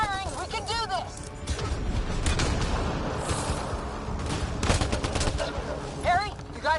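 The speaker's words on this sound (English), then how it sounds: "Just keep firing, we can do this!" Rapid gunfire rattles through a Mass Effect: Andromeda firefight in dense, overlapping bursts, with whistling energy effects and shouting voices over the battle noise.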